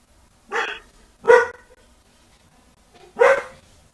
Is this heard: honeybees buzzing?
no